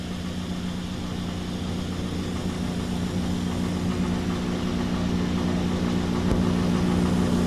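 A tractor engine at the 1993 National Farm Machinery Show tractor pull runs with a steady, loud, low drone that builds slightly in strength, heard alone with no talking.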